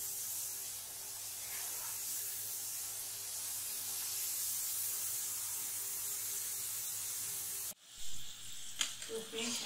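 Potato wafers sizzling in hot oil in a pan give a steady, even hiss that runs for most of the stretch, then breaks off abruptly near the end into a few louder, uneven clatters.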